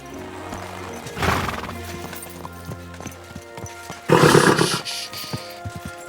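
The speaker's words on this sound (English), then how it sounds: "Easy, good horse." A horse in the game Kingdom Come: Deliverance 2 gives two loud, near whinnies over steady clip-clopping hooves on hard ground, with a low ambient drone underneath.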